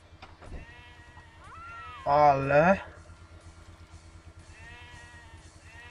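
A single loud, wavering goat-like bleat rises out of quiet game sounds, while a voice speaks briefly before and after it.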